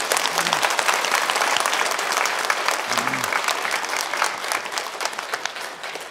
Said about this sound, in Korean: 박수로 하나님께 영광 올려드리기를 원합니다